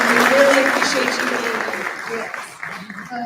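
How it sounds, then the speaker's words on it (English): Guests at a Ministry of Hope luncheon applaud themselves, a broad roomful of clapping that starts full and gradually thins and fades, with voices mixed in beneath it. "So I want everyone to give themselves a round of applause."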